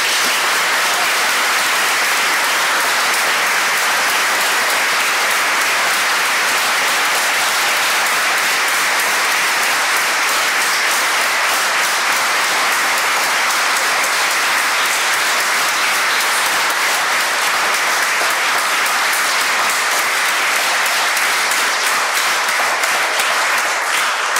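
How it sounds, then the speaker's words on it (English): Long, sustained applause from a large audience at a public science talk in Hawaii about the Event Horizon Telescope, dense and loud throughout without letting up. "Let's give them all a big round of applause."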